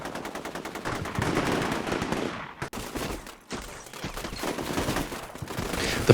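Sustained gunfire and machine-gun bursts in the video game Combat Mission Shock Force 2, loud and continuous, with dense rattling volleys, a brief lull, then renewed fire.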